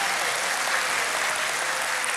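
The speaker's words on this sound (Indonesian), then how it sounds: "Tepuk tangannya yang sangat meriah." A church congregation bursts into loud, lively applause: dense, continuous clapping from many hands that holds steady throughout.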